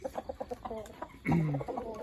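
Black chickens cluck in quick short bursts, then one lets out a louder drawn-out squawk near the end.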